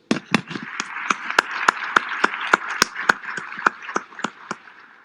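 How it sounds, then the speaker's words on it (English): Scattered, steady hand claps from an audience in a General Assembly hall, applauding the panelists of a zero waste discussion; moderately close, with sharp individual claps in a loose rhythm throughout. "can I invite you colleagues to give our panelists a round of applause?"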